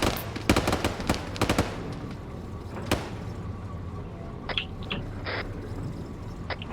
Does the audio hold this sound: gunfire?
yes